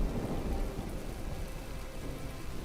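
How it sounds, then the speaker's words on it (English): A steady wash of rain with a low rumble of thunder plays in the video game From The Depths, continuous and even throughout, with no voices. "We have a storm brewing."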